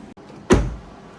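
A Fisker Ocean car door, just fitted with a new inside handle cable end, gives a light click from the latch and then a single solid thud as it shuts, close and alone.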